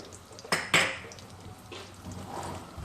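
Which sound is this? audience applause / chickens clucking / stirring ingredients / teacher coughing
stirring ingredients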